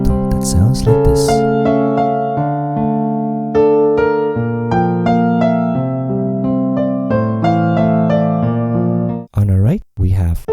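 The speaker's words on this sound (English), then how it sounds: "This bridges to a beautiful piano instrumental that sounds like this." Melodic 1980s-style piano instrumental with sustained chords under a flowing treble line, played steadily and fairly loud, ending with a few brief breaks in the final second.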